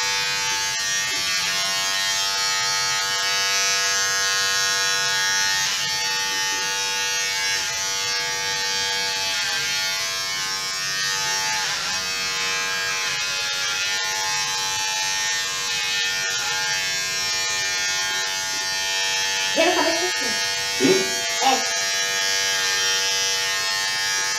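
Electric hair clippers buzz steadily and close by for the whole stretch while cutting a man's hair, with a few faint handling noises near the end.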